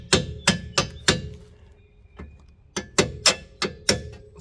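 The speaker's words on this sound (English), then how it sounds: "Gently tap it with a hammer." Hammer tapping a bolt through the rear suspension control arm of a Mercedes CLK 320: a quick run of four sharp metallic knocks, a soft tap, then five more evenly spaced blows, close and loud.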